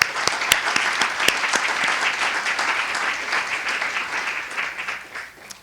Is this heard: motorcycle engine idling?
no